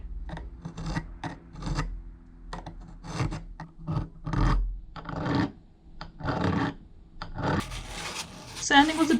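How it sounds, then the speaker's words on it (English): A metal bezel being filed by hand, with irregular bursts of rasping strokes separated by short pauses, close and fairly quiet. "Filing again."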